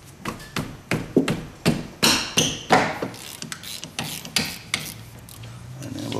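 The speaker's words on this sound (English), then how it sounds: "We're going to crack our bolts loose." Wrench cracking loose the caliper bolts on a rear disc brake, a series of sharp, rasping metallic clicks and knocks in steady bursts, fairly close and loud with no talk.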